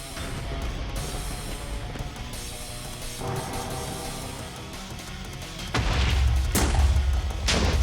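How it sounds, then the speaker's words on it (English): Explosions and impacts in a video game battle as a character parries the blasts, a continuous rumble of booms that gets louder and heavier in the last couple of seconds. "He's parrying the explosions."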